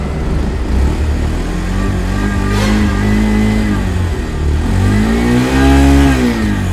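A Bajaj Pulsar motorcycle engine idles loudly up close and is revved twice, its pitch climbing and sliding back down each time.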